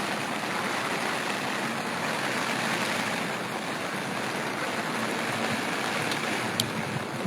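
Heavy monsoon rain pours down steadily over flooded fields and rooftops at a village ashram near Baldana on the Rajkot–Ahmedabad highway, a dense, even roar of water with no voices, holding constant throughout.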